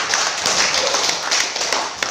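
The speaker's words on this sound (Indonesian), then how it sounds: "Tepuk tangan buat teman kita." Classroom students clapping for a classmate: dense, steady patter of many hands for about two seconds, close and fairly loud, with no voices over it.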